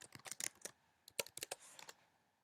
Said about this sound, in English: You simply type in your topic here